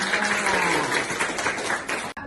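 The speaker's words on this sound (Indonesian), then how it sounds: "Oke, tepuk tangan untuk kita." Classroom group applause during a coding and artificial intelligence lesson, dense continuous clapping from many hands at close range, cutting off abruptly at the end.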